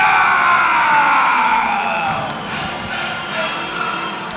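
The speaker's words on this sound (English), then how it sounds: "Darius Turcinskas getting a round of applause" A boxing crowd roars and applauds as fighter Darius Turcinskas is introduced, a loud continuous wash of arena noise with cheering voices mixed in, easing slightly toward the end.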